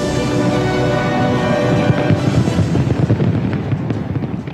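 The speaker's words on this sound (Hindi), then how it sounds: "न्यूजीलैंड के शहर ऑकलैंड में शानदार आतिशबाजी का मुजाहरा किया गया।" New Year 2015 fireworks over Auckland, New Zealand, a loud dense barrage of crackling bursts and booms that turns into rapid popping toward the end, with no speech.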